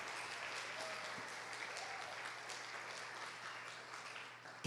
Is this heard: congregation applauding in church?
yes